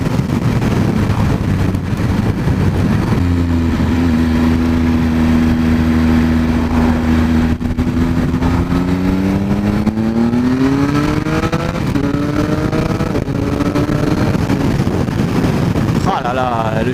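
A Triumph Speed Triple RS 1050 engine revs up steadily, its pitch climbing smoothly through quickshifter gear changes, with strong wind noise throughout and no clutch pauses.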